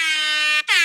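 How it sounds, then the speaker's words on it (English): A loud, sustained air horn sound effect blares steadily for over half a second, breaks off in a brief gap, then sounds again in a second blast. "Play the air horn."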